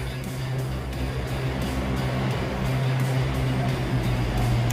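A car engine runs at a steady, low droning hum, close and continuous, with a faint regular ticking riding over it throughout.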